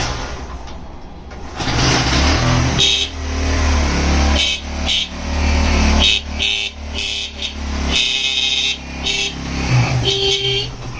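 A small motorcycle sits idling with its engine running while its horn is honked in a series of short, repeated beeps close by, the engine hum continuing steadily underneath.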